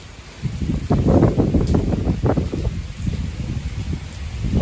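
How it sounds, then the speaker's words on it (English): Strong gusts buffet the microphone in a mountain storm at Skyforest, California near Big Bear, a loud, close, rumbling roar of wind with rustling, heard alone without talk. "Look at how windy it's getting."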